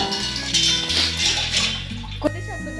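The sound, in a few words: water being poured into a pot for pasta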